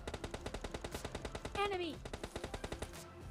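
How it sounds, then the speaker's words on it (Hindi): Rapid automatic gunfire in PUBG Mobile Lite, with a fast, even stream of sharp shots lasting the whole stretch, close and distinct, and a brief whistling tone cutting across partway through. "पर तब भी उसने फायर कर ही दिया।"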